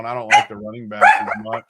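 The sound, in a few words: dog barking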